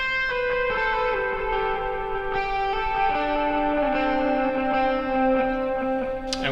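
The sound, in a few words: lead electric guitar lick played slowly with effects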